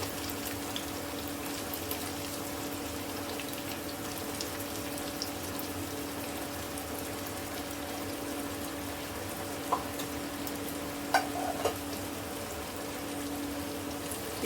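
Chopped onions frying in hot oil in a home kitchen, for a chicken soup: a steady, even sizzling hiss continues throughout, broken by a few faint crackles and pops partway through.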